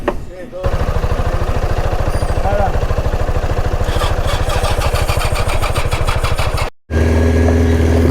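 An old Honda motorcycle engine catches and runs, a steady loud rapid idle throb close by that briefly cuts out and then resumes.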